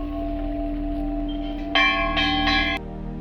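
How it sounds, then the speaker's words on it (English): Temple bells ring at Golu Devi Temple in Kumaon, three bright metallic strikes in quick succession cutting through a steady ambient hum, fairly close. "In this temple, everywhere you will find bells."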